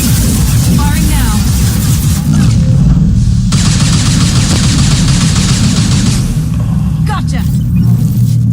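Gunfire in Mass Effect 2 sounds as a dense, loud, continuous barrage of rumbling shots and booms that stays heavy throughout, with voices speaking over it.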